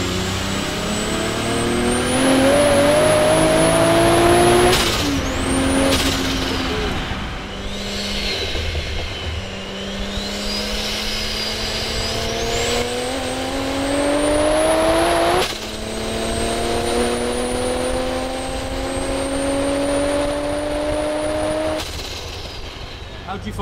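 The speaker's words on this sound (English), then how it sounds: "You get quite a lot of chatter, don't you, from the gearbox?" Race-spec BMW E46 M3 with a swapped Toyota Supra 2JZ engine, its solid-mounted gearbox chattering under a droning engine that climbs in pitch through the gears, loud and steady while people talk over it inside the car.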